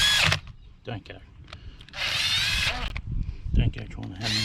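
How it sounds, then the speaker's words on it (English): Impact driver running bolts into a ride-on mower transmission, several bursts of whirring and rattling hammering separated by pauses, close by, with someone talking between bursts. "Let's grab the impact driver"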